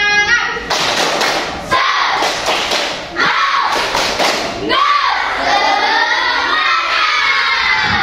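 A group of children in a classroom claps in rhythmic bursts, with shouting and cheering voices mixed in throughout.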